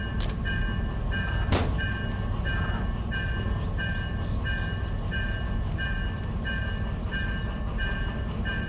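A diesel-electric hybrid locomotive in the train game Derail Valley runs with a steady, loud engine drone and a rumbling low hum. A few faint clanks come through around it, and nobody speaks.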